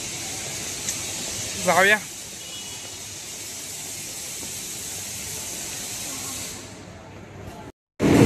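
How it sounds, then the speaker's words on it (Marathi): A train pulls into a railway station with a loud, steady rushing roar that carries on for several seconds, a brief voice speaks over it early on, and the noise fades near the end. "ट्रेन येते मित्रांनो"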